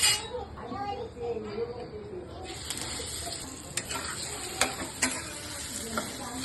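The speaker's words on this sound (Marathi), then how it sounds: "थोडंसं तेल, फोडणीला जिरं, मोहरी आणि हिंग" Cumin, mustard seeds and asafoetida crackle in hot oil as a tempering, a quiet close sizzle with a few sharp pops and stirring scrapes, while faint talk sits in the background.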